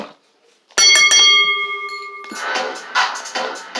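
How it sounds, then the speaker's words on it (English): A wrestling ring bell at an ECW match, struck in a few sharp rings that leave a sustained metallic tone before crowd noise rises and swells in the arena. "Ring the bell."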